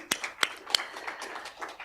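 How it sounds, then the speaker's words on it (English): Sparse, scattered claps from an audience welcoming a guest onto a platform, a few distinct sharp hand claps rather than sustained applause, fairly quiet. "A clap for him."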